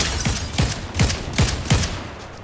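A legendary SMG fires in a shooter video game, five or six evenly spaced short bursts, each with a punchy low thump, loud and close.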